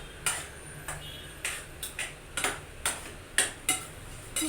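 Potato bhaji with salt being sautéed and stirred in a pan, heard as a series of sharp, evenly spaced utensil taps and scrapes against the pan, close and clear, with no talking.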